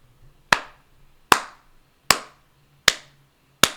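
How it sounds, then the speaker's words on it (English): Five single sharp claps spaced evenly and slowly, each ringing briefly before silence, with nothing else heard between them. "got the slow clap for that"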